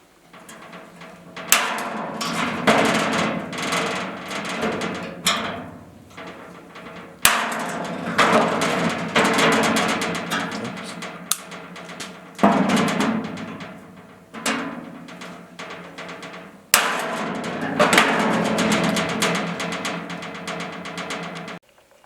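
Sheet metal for a Willys CJ3B Jeep body tub is punched with a hand hole punch, giving loud sharp metallic snaps in irregular bursts, each followed by rattling, scraping handling of the panel, close up with no talk.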